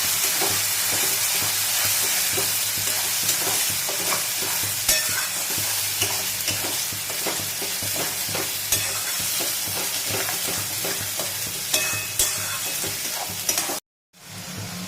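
Pointed gourd and prawns stir-fry with chili, garlic and nigella seeds, giving a loud, steady sizzle close up with faint scraping stirs throughout, then a brief break near the end.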